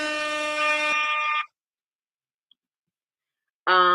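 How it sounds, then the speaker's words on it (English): Loud, harmonic handheld air horn blasts: a sustained blare lasting over a second, then silence, then another blast starting at the end. "But I have an air horn."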